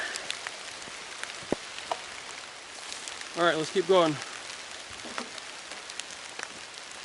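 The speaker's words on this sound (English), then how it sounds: "that was a big old blob of rain that just hit this camera" Rain pelts an outdoor camera in a steady, close, fizzing wash, with a louder blob of water striking midway. Someone speaks briefly over it.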